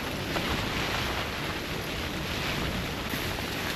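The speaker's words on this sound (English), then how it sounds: "Wow, it's windy." Strong wind sweeps across a frozen lake during a snowstorm, a loud, constant broadband roar buffeting the microphone with no break throughout.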